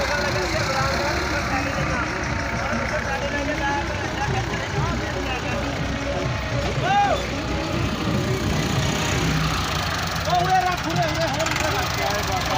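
A heavy tractor engine rumbles steadily throughout with broadband mechanical noise, while voices talk intermittently over it.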